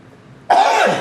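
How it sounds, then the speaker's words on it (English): A single sudden cough, loud and close, following a moment of near silence in a kitchen while cooking beef stew. "Excuse me again for coughing."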